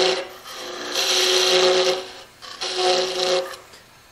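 A spindle roughing gouge cuts into wood spinning on a lathe, giving a loud rasping, scraping hiss in two long passes with a brief pause between them, and no talk over it.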